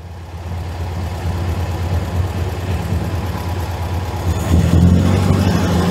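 The air-cooled engine of a VW Beetle idles steadily in a workshop while its idle is being adjusted, a close, loud, even rumble that swells slightly toward the end as the throttle is nudged.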